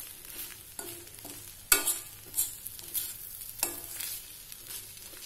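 Spoon working a vada pav potato filling around a hot pan, with a soft sizzle underneath and repeated scraping strokes and knocks against the metal at an uneven rhythm, close and alone.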